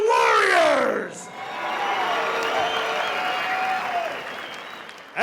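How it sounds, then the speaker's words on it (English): Arena crowd applauding and cheering two middleweight boxers after a ten-round professional championship fight, a sustained roar of clapping with whoops, an announcer's voice ringing over it at the start. "can we please have a round of applause for these two warriors?"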